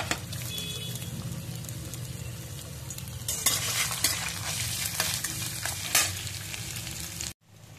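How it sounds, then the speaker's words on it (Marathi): Chopped ginger and garlic sizzle in hot oil with steady frying crackle and stirring scrapes throughout, loudest in the middle, then cutting off abruptly near the end. "याच्यात आता मी बारीक ठेचून घेतलेला म्हणजे बारीक चिरून घेतलेला अद्रक घालते आणि बारीक चिरून घेतलेला लसूण"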